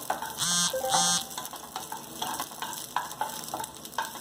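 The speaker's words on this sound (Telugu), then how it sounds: "చట్నీకి సరిపోయే పచ్చిమిరపకాయలు వేసేసుకొని కాస్త వేయించుకోవాలి నూనెలో" Green chillies frying in hot oil for chutney, crackling and sizzling close by with bursts of spitting and stirring scrapes, and two short electronic beeps near the start, no voices.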